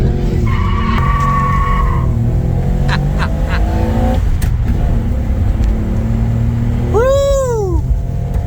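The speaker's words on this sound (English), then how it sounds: "take it out for a little test drive, see how it runs with the new exhaust" Old VJ Dodge ute with a freshly fitted custom exhaust, driving on a road test with a steady low engine rumble and drone throughout, a tyre squeal sweeping through near the end.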